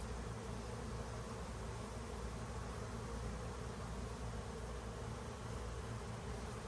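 Honeybees on a brood frame lifted from the hive give off a dense, steady buzzing hum that stays even and fairly soft throughout, with no voices.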